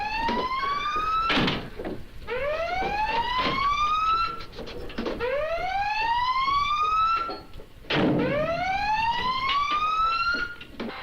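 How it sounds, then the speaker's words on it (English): A World War II submarine's collision alarm sounds as the boat crash dives, four rising electronic whoops repeating in a steady rhythm, loud and close, with clanks and thuds between them and no speech. "Sound collision alarm"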